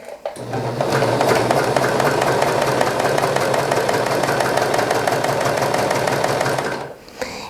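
Serger sewing machine stitching a rolled hem, running at a fast, steady mechanical whir close by for about six seconds before stopping.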